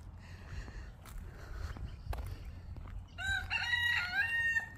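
A rooster crows loudly and nearby, one long crow near the end, after a few quiet seconds of soft footsteps and background noise.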